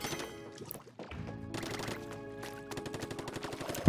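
Rapid ink-weapon shooting in Splatoon 2 sounds as dense bursts of automatic fire, loud and continuous with a brief gap near the middle, layered over game music.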